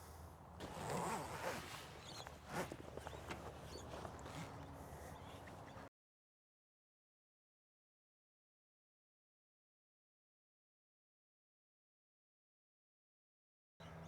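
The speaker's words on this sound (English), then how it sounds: "From there, we'll just zip it the whole way across." A camper trailer's annex roof zipper rasps steadily across for about six seconds, close and quiet with fabric rustling, then falls silent.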